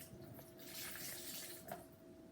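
Water pours out of a jar turned upside down, a soft, brief gush and splash that is faint and close, with no talk over it.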